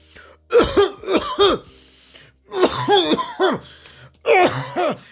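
A voice imitates cinema audience coughing in three bursts, each a cluster of rough, throaty coughs separated by short pauses, close and fairly loud.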